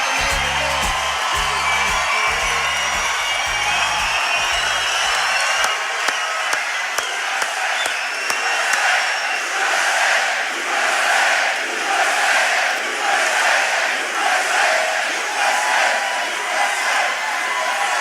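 A large crowd at an outdoor political rally in Newtown, Pennsylvania cheers and roars loudly, a sustained wash of shouting and whooping with some clapping that stays strong from start to finish.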